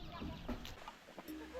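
A chicken clucks a few short times at close range in a hill-tribe village in Laos, with soft background noise and faint voices around it.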